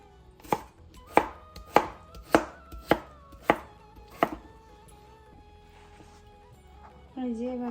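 Kitchen knife chopping vegetables for a curry on a cutting board: seven sharp, evenly spaced chops, close and clear, then a pause before a voice begins speaking.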